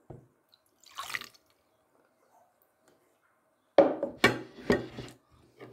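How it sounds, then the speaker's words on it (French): Water poured into a saucepan, 200 ml measured out for choux pastry dough, comes as a short splashy burst and then a louder cluster of splashing pulses a few seconds later in an otherwise quiet kitchen. "dans une casserole, il faudra mettre 20 centilitres, donc 200 ml d'eau"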